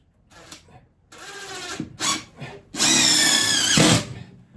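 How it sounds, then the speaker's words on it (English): Cordless power drill driving screws into wood during a honey house build: several short whirring bursts followed by a longer, louder sustained run as a screw sinks in, close by. "I'm just going to put 2 more screws in, one in each corner, just to give that a bit more support in the corners."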